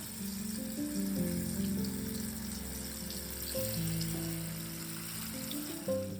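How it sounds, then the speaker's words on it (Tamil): Pieces of elephant yam coated in masala fry in oil with a faint, quiet crackle, under steady tonal hum from nearby kitchen noise. No one speaks. "இப்போ நம்ம ஃப்ரை பண்ணிடுவோம்."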